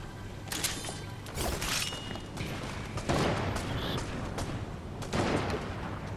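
Rapid bursts of pistol fire from a lock-on pistol in the video game Fortnite, several sharp shots in quick clusters over steady game background noise.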